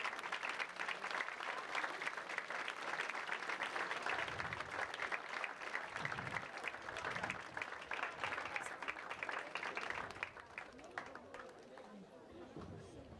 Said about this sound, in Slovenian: predlagam, da pospremimo k mikrofonu z aplavzom dobrodošlice